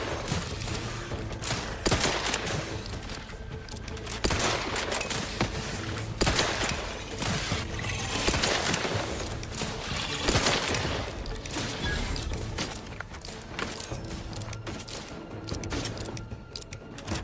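Sustained gunfire in Cyberpunk, dense rapid shots and bursts rattling continuously for the whole stretch, loud and close, with mechanical clicks mixed in and no talk.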